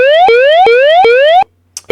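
A trading platform price alert chime sounding four times in a row, each a bright rising synthetic tone, loud and close, followed by a short pause and two quick electronic blips.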